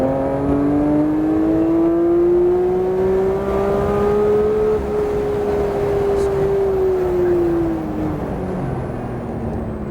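Porsche race car accelerating hard on a track, a loud continuous engine note rising steadily in pitch and then easing off near the end, close and dominant throughout.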